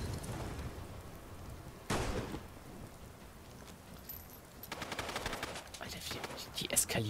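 Gunfire in the video game Fallout London: sharp bursts of shots crack out in sudden clusters, with a dense rattling volley toward the end over a steady hiss of rain-like ambience.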